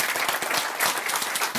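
Brief burst of dense applause from a church congregation during a sermon, fairly close and steady with no speech.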